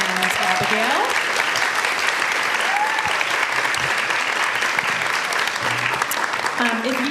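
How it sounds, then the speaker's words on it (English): A large audience at a book event gives sustained, dense applause for three fantasy authors, loud and steady throughout, with scattered cheers and whoops rising above the clapping. "Can we first have a round of applause for May, Hannah, and Abigail?"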